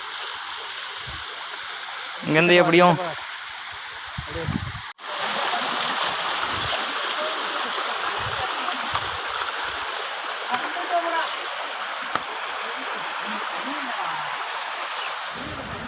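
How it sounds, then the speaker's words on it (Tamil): Steady rushing water roars from nearby Kallaru Falls in Salem, Tamil Nadu, with a brief burst of speech early on over the constant hiss. "இதான் பார்த்தீங்கன்னா நம்ம தேடி வந்த அருவி"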